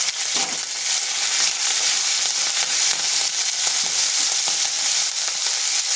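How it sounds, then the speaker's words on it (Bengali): Ginger and green chili paste hits hot oil in a pan, already spiced with cardamom, cinnamon and cumin seeds, giving a steady close bright sizzle with small crackles and stirring scrapes throughout. "দিয়ে দিচ্ছি আদা আর কাঁচা লঙ্কার পেস্ট।"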